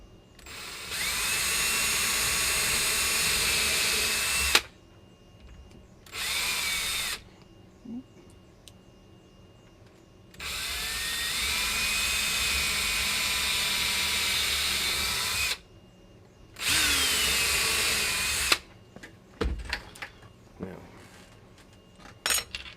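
A power drill runs in several sustained bursts of whining motor noise, separated by short pauses, followed by scattered clicks and clatter near the end.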